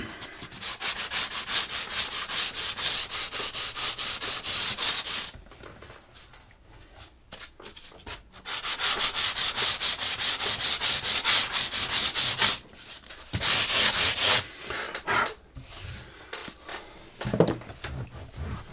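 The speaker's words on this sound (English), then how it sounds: "edge of the frets down, and that sort of smooths them off, going at an angle" Fret edges on a relic Danelectro 67 guitar are sanded smooth at an angle, producing bursts of dry, rhythmic scratchy rubbing that stop for short pauses and then resume, close by and without speech.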